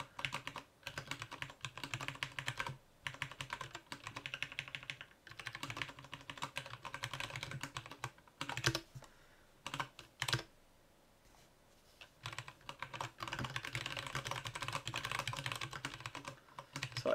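Rapid computer keyboard typing on a programming setup, steady bursts of keystrokes with brief pauses, close and fairly loud, no speech.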